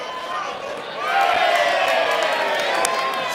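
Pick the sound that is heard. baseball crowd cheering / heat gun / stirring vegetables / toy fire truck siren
baseball crowd cheering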